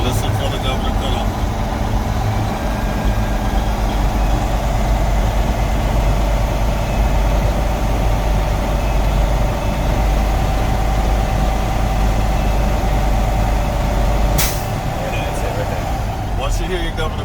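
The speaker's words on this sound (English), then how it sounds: "Put your foot on the gas. Go up to 10. And listen for the governor cutoff." Truck engine held at raised revs during a CDL air brake check, building air pressure toward the governor cutoff: a loud, steady low rumble running throughout, with a brief sharp hiss near the end.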